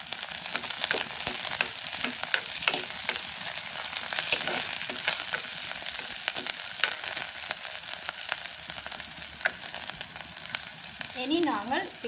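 Onion, curry leaves and fennel seeds fry in oil for a Jaffna-style shark curry, a steady close sizzle with scattered crackles and stirring scrapes; a brief voice comes in near the end.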